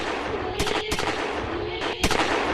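Several loud, sharp gunshots in a film soundtrack cut through a music track with bass and vocals, coming in clustered pairs at irregular intervals.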